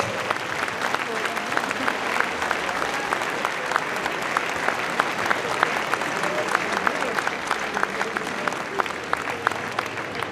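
Audience applause at a New Year's greetings evening event, a sustained round of many hands clapping with sharp individual claps standing out, while voices murmur and talk underneath.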